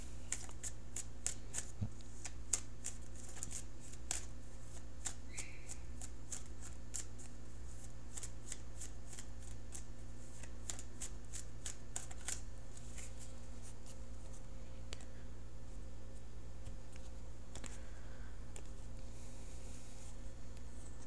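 Tarot cards being shuffled by hand before a card is pulled, a steady run of quick crisp riffling flicks close up over a low constant room hum, with no voices.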